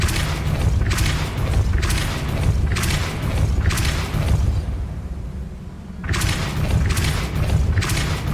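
Depulso spell effects in a Harry Potter video game sound as a series of loud, booming bursts in a steady rhythm, with a brief quieter gap before the blasts resume.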